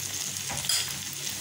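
Onions fry in a pan with turmeric and chili powder for a Kerala-style onion curry, a steady close sizzle with soft scraping as the mixture is stirred.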